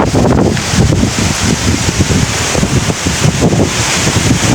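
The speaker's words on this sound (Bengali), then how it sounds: "দেখেন কি আমাকে বাতাস নিয়ে যাচ্ছে" Strong cyclone wind blowing in a village, a loud, continuous roar buffeting the microphone with rough gusts throughout, no voices heard.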